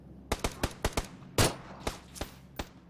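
Video game gunfire, a quick run of sharp close shots followed by one heavier blast and a few more scattered single shots over faint background noise.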